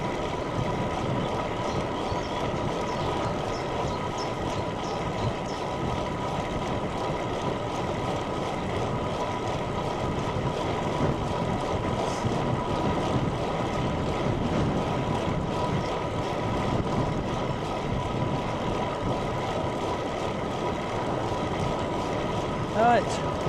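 Steady wind rushes past a cyclist riding into a headwind on an open road, a continuous low roar that stays even throughout with faint road noise beneath it and no pauses.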